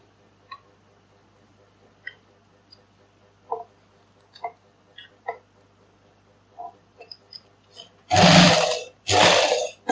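A sewing machine stitching fabric runs in two loud bursts near the end, preceded by scattered soft clicks and handling ticks in a quiet room.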